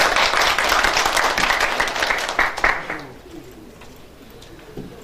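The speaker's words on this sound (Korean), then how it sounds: "뜨거운 박수 부탁드리겠습니다." An audience at a conference session applauds a keynote speaker with dense, steady clapping that thins out and stops after about three seconds, leaving a quiet room.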